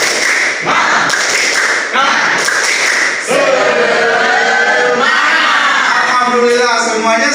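A classroom group in a circle claps and shouts a rhythmic spirit chant, sharp loud claps in quick bursts giving way to excited children's voices calling out together.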